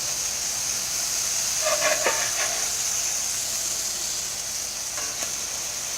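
Hamburgers fry in a 12-inch Lodge cast iron pan, giving a loud, steady close-up sizzle and hiss with a few faint pops and crackles throughout.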